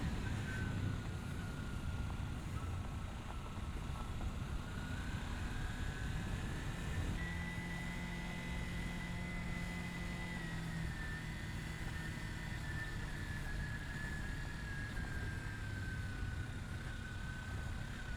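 Motorcycle engine lugging at low revs in third gear during a moto camping ride, a continuous loud droning rumble with a slowly rising and falling pitch and wind noise throughout.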